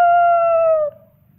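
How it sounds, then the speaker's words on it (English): A dog lets out one long, loud, wavering howl close by that fades out after about a second, then stops, with no talk over it. "This dog goes completely nuts whenever I howl."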